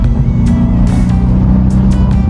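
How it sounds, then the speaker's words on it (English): Loud, close engine and exhaust note from a 2020 Mercedes-AMG C63 working through downshifts, a steady heavy rumble with brief sharper bursts, no talking over it. "I'm going through gears like it's nothing, just so I have more gears to go back on, so you can hear that exhaust."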